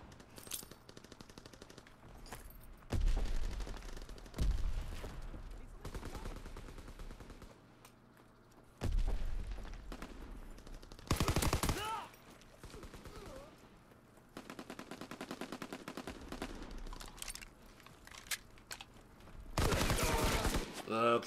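Rapid automatic gunfire in Call of Duty WW2 on the Ardennes Forest map, heard as loud repeated bursts of fast shots with quieter gaps between them.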